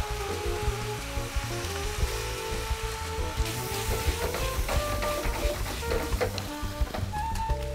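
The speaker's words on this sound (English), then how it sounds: "I'm gonna add my noodles." Steady, crackling sizzle of noodles frying in a hot pan for a stir fry, with dense small pops throughout, close and moderately loud.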